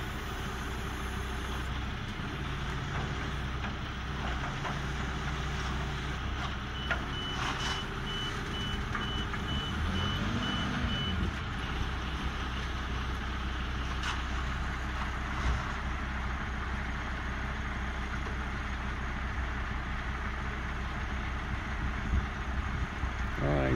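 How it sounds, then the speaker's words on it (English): A truck maneuvers into position at an off-grid home build site at Lake Pillsbury Ranch, its reversing alarm beeping steadily over a constant idling engine rumble, with faint voices in the background. "This guy was amazing getting this truck in here."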